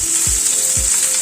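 Chopped onion going into potatoes frying in a pan: a brief, loud, bright sizzle with two soft low thumps as pieces drop and shift, heard up close.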